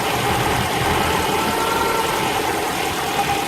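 Car engine idling roughly and unevenly while the ignition distributor is rotated by hand to find the best timing at the roadside after an ignition points fix; a steady, loud, close rumble that continues unbroken, with no voices.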